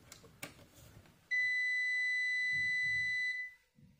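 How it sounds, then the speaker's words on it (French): After a couple of soft clicks, a steady high-pitched electronic tone sounds for about two seconds, then stops, leaving faint background noise. "ça va faire un bip d'allumage, c'est normal."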